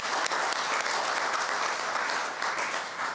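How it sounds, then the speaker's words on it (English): A conference audience applauds at a welcome session, sustained dense clapping, loud and even from start to finish with no voices over it. "A round of applause,"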